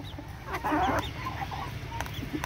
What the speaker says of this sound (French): Il y a deux coqs qui se disputent là.